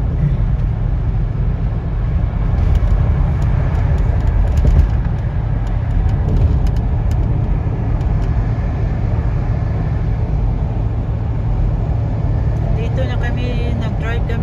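Car cruising on the freeway toward Fairfield in the evening, a steady close road and engine rumble inside the cabin with a person talking over it throughout.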